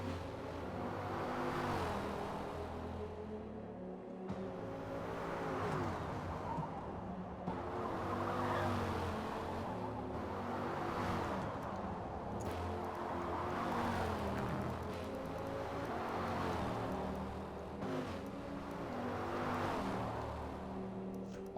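Race cars, including Dodge Vipers, at the Nürburgring in a racing video game, their engines droning steadily with repeated surges of revving and braking into a slow, tight section, loud and continuous with no talk.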